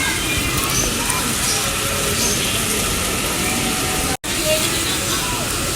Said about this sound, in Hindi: धूप में बारिश कैसे हो रही है आज